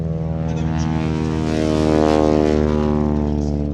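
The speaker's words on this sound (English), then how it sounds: "Stearman getting airborne" Stearman biplane at an air show taking off, its radial engine and propeller giving a loud, steady throbbing drone that swells slightly as it climbs, heard alone without talk.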